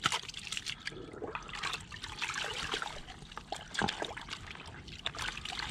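Water sloshing and trickling as a wash mitt is rinsed in a bucket during a rinseless car wash, with irregular splashes and dribbles close by that keep going throughout and carry no speech.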